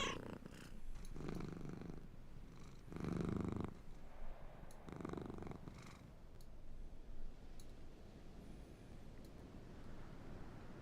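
A domestic cat purrs close by in a steady, rumbling rhythm, with stronger swells on each breath early on before it settles into a softer, continuous purr.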